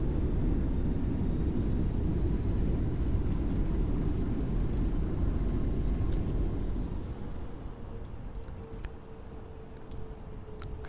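A simulated iFly Boeing 747 airliner roars with full reverse thrust on the runway, a steady loud broadband rumble that eases and drops in level partway through, then continues lower with faint clicks.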